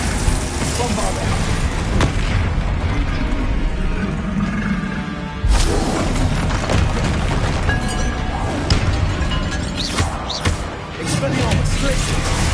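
Bombarda explosion spell going off in Hogwarts Legacy, a sharp booming blast at about five and a half seconds amid continuous loud spell combat effects and thuds, with a voice talking over it.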